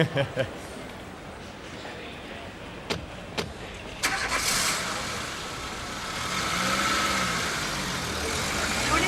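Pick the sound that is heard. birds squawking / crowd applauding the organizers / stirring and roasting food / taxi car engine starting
taxi car engine starting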